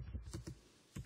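Several quick keystrokes on a computer keyboard, close and soft, in an uneven burst of clicks followed by a short pause and one more tap.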